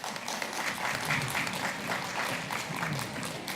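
Audience applause at a criminal lawyers' gathering held in a garage, steady dense clapping from a crowd lasting throughout, moderately distant and fairly quiet.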